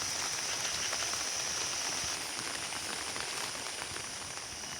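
Steady rain falls in a village, a dense, even hiss of drops filling the whole stretch without pause and with no voices over it.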